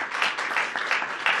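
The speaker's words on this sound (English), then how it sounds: "Give these kids another round of applause," Students at a school event get a short, lively round of applause from the crowd, with clapping that pulses in small surges throughout.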